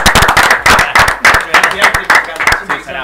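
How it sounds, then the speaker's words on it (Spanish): A studio audience on a Spanish-language TV talk show claps loudly and close by to welcome a guest, in steady rapid bursts with a voice briefly under it. "Lo que nos sale la gente que está atrás aplaudiendo."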